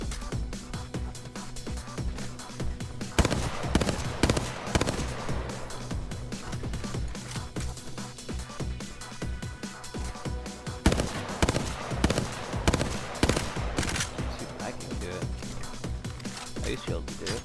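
Guns fire at an outdoor firing range, shot from the hip, in dense rapid bursts of sharp cracks with echoing tails, clustered in several volleys at moderate distance.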